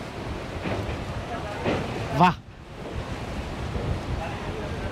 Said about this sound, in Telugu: కానీ విండ్ బ్లాస్ట్ మామూలుగా లేదు